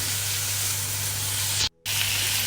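Onion, green chilli and tomato frying in a pan for tomato rasam, giving a steady close sizzling hiss with a low hum beneath, cut by a brief silent dropout near the end before the sizzle resumes.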